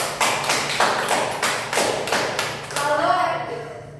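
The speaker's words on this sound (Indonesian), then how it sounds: "Berikan tepuk tangan dulu." A class of students applauds a quiz winner in a classroom, a run of loud, regular hand claps and thuds in bursts that fade out at the end, with faint voices.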